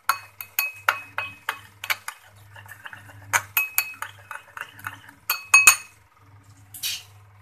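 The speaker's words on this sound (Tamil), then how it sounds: "எல்லாத்தையும் நல்லா மிக்ஸ் பண்ணிக்குவோம்" Tofu ball Manchurian ingredients stirred in a bowl, giving a run of bright clinks and scrapes from a utensil against the dish in an irregular rhythm, close and clear, with a low hum in the background.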